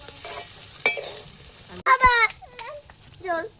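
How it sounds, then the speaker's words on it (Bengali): Chow mein noodles tossed with fried potato sizzle in a pan, broken by sharp scrapes and clatters of a spatula stirring; the frying hiss stays low with louder bursts of metal scraping toward the end. "এইভাবে ভেজে নিচ্ছি"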